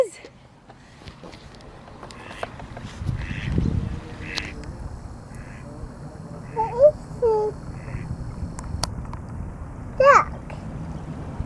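A duck outdoors during a bike ride gives a few short quacks that are moderately faint and widely spaced, mixed with wind, rustling and a brief voice.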